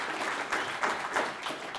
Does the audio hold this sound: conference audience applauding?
yes